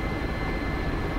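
A helicopter engine in a flight simulator video game drones steadily and evenly, a dense continuous hum and whine filling the clip with no talk.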